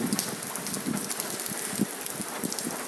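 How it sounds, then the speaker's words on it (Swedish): Steady rain falling outdoors on a cold, wet autumn day around 7–8 degrees, a dense continuous hiss with scattered drops pattering close by and no voices. "Det är regnigt och kallt, ungefär 7-8 grader."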